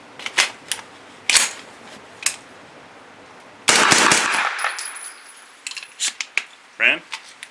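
A Thureon Defense 9mm carbine fires 165 grain Hush subsonic rounds outdoors: a few suppressed cracks with the mechanical clack of the action cycling, spaced apart with quiet gaps and clinking between shots.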